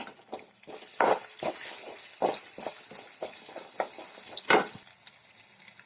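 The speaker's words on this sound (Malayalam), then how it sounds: "ഒരു രണ്ട് പച്ചമുളക് അതും കൂടി ഇട്ട് കൊടുക്കാം അതും കൂടി ഇട്ടൊന്ന് ഇളക്കി കൊടുക്കാം" Chopped ginger and green chillies are stirred as they fry in a pan for fried rice, giving steady close sizzling with repeated scraping strokes of a spoon and a few louder knocks.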